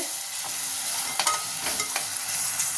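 Ginger garlic paste with turmeric fries in oil in a pan for a country chicken curry. A steady, close hiss of sizzling carries a few scattered clicks of stirring, with no talking.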